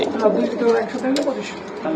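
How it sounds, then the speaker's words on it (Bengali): A pair of Teddy pigeons coos softly at close range in a pigeon market, low throaty calls running under steady talk. "এই যে এক জোড়া কবুতর এটা কি কবুতর দাদা এটাও টেডি ভাই টেডি কবুতর"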